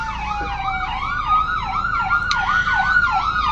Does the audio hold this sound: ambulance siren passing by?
yes